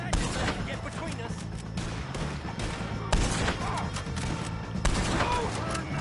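Gunfire in Red Dead Redemption II, with repeated loud shots and sharp cracks from a close firefight, heavier bursts punching through around the middle and near the end over constant battle noise, with voices talking underneath.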